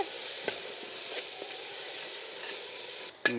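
Fish biryani masala with chili powder simmers in a pan for an Andhra-style fish dum biryani, giving a soft, steady sizzle with a few faint clicks and a brief louder bump at the end.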